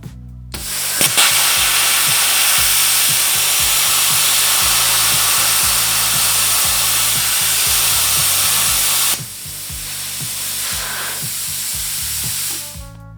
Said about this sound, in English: So this first test, we've got the Plasmacutter turned down to 10.